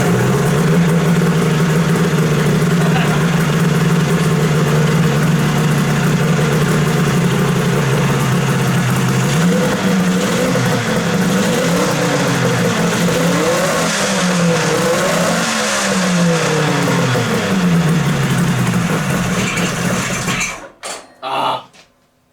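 A cold mini muscle car engine idles low and rough, then revs up and down in a series of rising and falling swells before cutting off abruptly near the end.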